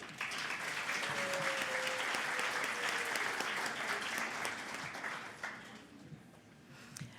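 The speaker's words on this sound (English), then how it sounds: "Please give them a round of applause again" Sustained applause from a large audience at a science awards gala, steady and full for most of the stretch before tapering off toward the end.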